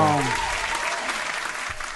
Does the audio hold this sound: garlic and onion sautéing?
no